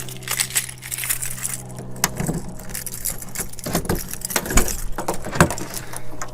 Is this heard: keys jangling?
yes